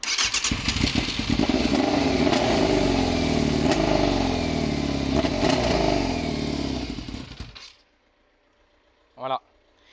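A Yamaha FZR 600 motorcycle engine revving hard and loud for about seven seconds, then cutting out into near silence before a brief short burst; speech is heard over it.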